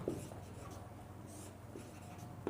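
Chalk writes on a board during a mechanics lecture, making faint, soft scratchy strokes against a low room hum, with no voice over it.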